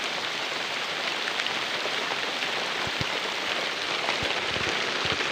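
Steady rain falls on a surface as a dense, even hiss throughout, with a few heavier drops pattering nearby and no voices.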